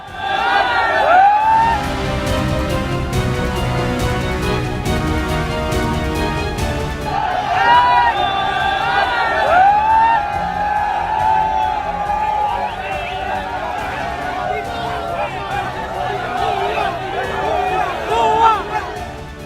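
A frenzied crowd of looters in Bangladesh, a dense loud hubbub of many voices with shouts and whistles carrying through the whole stretch.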